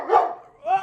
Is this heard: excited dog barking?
yes